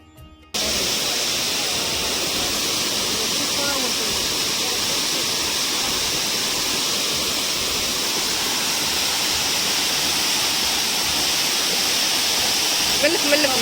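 Ukadda Falls, a natural waterfall in the Muthodi forest of Chikkamagaluru, roars as a loud, unbroken wash of falling water heard up close, steady from start to finish after a brief quieter opening.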